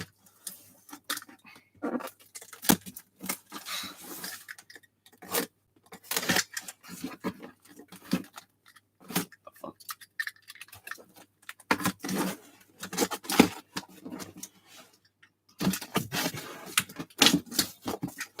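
Thick industrial packing tape on a mail box being sliced, giving a run of scratchy, crackling cuts and tearing bursts in irregular clusters, fairly close and moderate in level, with no talk over it.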